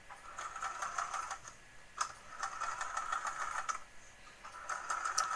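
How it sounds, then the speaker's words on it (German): Domestic sewing machine running an elastic stitch through thin stretch fabric with a very fine needle while sewing women's underwear, a fast steady mechanical whirring chatter with brief pauses, close and moderately loud, no talking. "Dann stecken wir das Ganze zusammen und nähen es dann mit einem elastischen Stich zusammen."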